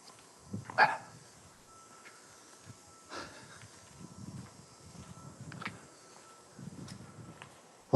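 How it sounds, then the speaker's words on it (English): Dogs being walked outdoors up ahead give a few scattered barks and snorts, faint to moderate and somewhat distant, with quiet outdoor ambience between them and no talking. "Some dogs being walked up ahead."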